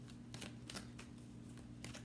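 Tarot cards being shuffled by hand in quick repeated riffles, several crisp bursts of rustling over a low steady hum, close and fairly quiet, with no speech.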